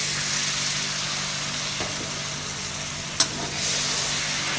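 Garlic and sugar with a splash of water stir-fry in a hot pan, giving a steady close hiss of sizzling with a couple of faint scrapes and one sharp clack partway through.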